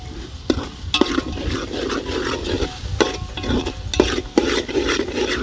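A spoon stirs dry Kashmiri chili powder into a masala roti dough mixture, giving soft scraping and rustling with a few sharp knocks against the bowl, steady and close with no talk.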